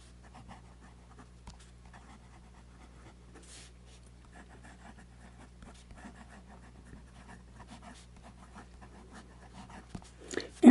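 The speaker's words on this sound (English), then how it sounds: "So now we'll do some writing." A Jinhao 599 fountain pen writing and swirling on paper, faint intermittent scratching strokes over a quiet, low room hum, with a louder knock right at the end.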